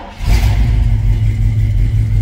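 A 1969 Chevrolet Impala Custom two-door hardtop engine revs up close and loud, a steady deep rumble that swells quickly and holds strong for about two seconds, with no talking.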